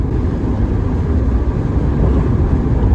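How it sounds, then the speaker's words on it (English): A steady low engine drone hums continuously from inside a moving MG TF sports car with a mid-mounted 1.8 K-series engine, with a constant rumble and faint wind noise and no speech. "get to hear that engine just burr"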